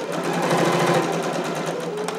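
Home sewing machine back stitching the hem of a McCall's 7402 harem jumpsuit, a steady close rapid needle whir with fast even ticking, continuous and unbroken.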